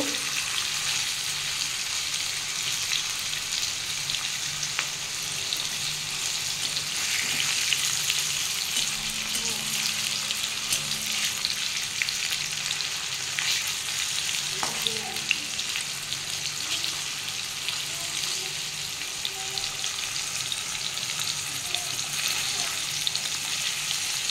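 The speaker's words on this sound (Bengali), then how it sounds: "পনিরগুলো বেশি ভাজবো না, হালকা হালকা করে ভেজে নেব।" Paneer cubes fry lightly in oil in a pan for spinach paneer, a steady close sizzle running throughout, broken by occasional stirring and scraping.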